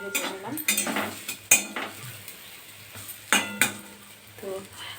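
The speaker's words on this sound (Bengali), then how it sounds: "দেখুন হাত ফসকে কীভাবে পড়ে গেল খুন্তিটা।" A metal spatula slips from a hand and clatters against pots in a kitchen where eggs have been fried. Several sharp metallic clanks and clinks ring out over a soft background sizzle.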